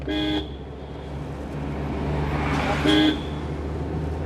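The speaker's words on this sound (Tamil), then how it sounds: "okay horn" A car horn honks twice while driving downhill on a mountain road, a short blast and then another a couple of seconds later, over steady traffic and engine rumble.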